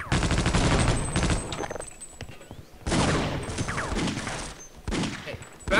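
Bursts of rapid gunfire from a mounted turret in Half-Life: Opposing Force, loud and close, coming in a few separate volleys with short quieter gaps between them.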